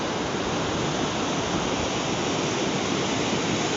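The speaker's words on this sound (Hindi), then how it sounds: "और यहाँ नीचे है अलकनंदा नदी, और वो सामने जो छोटा सा झरना जैसा आ रहा है वो है तप्तकुंड का गर्म पानी।" Rushing water of the Alaknanda river at Badrinath, with the small waterfall-like outflow of hot spring water from Tapt Kund, forms a steady, dense, loud roar that holds unchanged throughout, with no voices.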